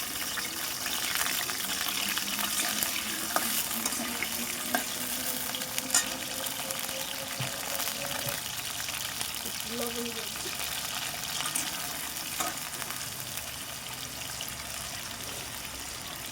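Potatoes sizzle steadily in hot oil in a heated kadai, with occasional scrapes from stirring and a voice speaking briefly over the frying.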